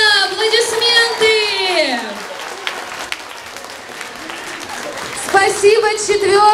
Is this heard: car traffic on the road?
no